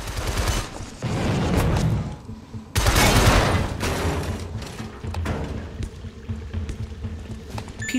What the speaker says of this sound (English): People are really not hearing these gunshots.